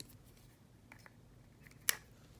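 Scissors snip beading thread during a jewelry-making session with two-hole beads, one sharp close snip standing out near the end after a couple of faint earlier clicks in a quiet room.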